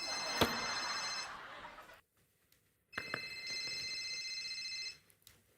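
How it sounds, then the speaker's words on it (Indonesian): A telephone bell rings in two long bursts separated by a short silence, loud and close, with a bright metallic trill. "Telepon bunyi."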